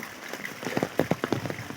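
Heavy rain falls steadily on nearby surfaces during a short downpour, the patter rising and falling in dense bursts of drops with no voices over it.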